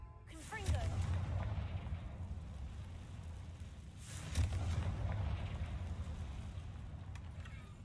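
Two deep, rumbling Confringo blast explosions from Hogwarts Legacy, each a sudden boom followed by a long roaring decay, spaced a few seconds apart over soft background sound.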